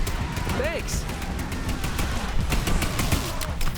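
Rapid automatic gunfire from The Anacrusis, a co-op sci-fi shooter, rattles on continuously and loudly with dense overlapping bursts, while synthetic alien or game effects sweep through.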